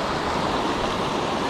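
White water in a Vermont mountain brook pours over a string of small waterfalls, a dense, continuous rushing hiss with no pauses and no voices.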